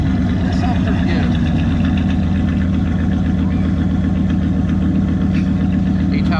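A lifted second-generation Ram pickup truck engine idles steadily and close by, a constant low rumble that runs unbroken through the whole stretch.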